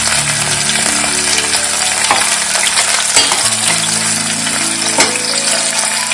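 Sliced onions frying in a pan over a medium flame for Andhra-style gongura chicken, a loud continuous sizzle with occasional stirring clinks and scrapes.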